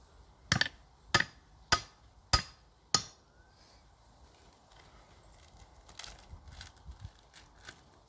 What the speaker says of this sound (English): Hopefully the ground's not too hard, won't be hammering too much.